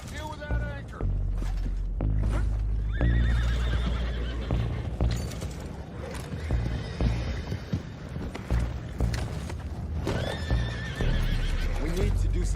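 Horses whinny and neigh repeatedly in Red Dead Redemption 2, with hooves clip-clopping and wood creaking nearby, and voices heard throughout.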